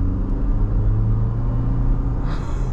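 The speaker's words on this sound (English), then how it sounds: "You can even hear some turbo noise out there." Steady low rumble of a 2021 Ford Ranger XLT pickup's turbocharged engine pulling under throttle, heard from inside the cab, with a brief faint whoosh near the end that could be turbo noise.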